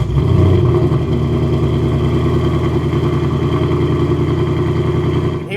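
A 2015-2023 Mustang GT with a Roush stainless steel X-pipe resonator delete idles loud and close, a deep, raspy, steady burble with no talking over it.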